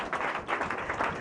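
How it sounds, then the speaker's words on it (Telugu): Congregation applauding at a healing ministry church service, a steady wash of many hands clapping together at moderate loudness, continuing without pause throughout. "నాకు మీరు చప్పట్లు కొడితే నవ్వు వస్తుంది."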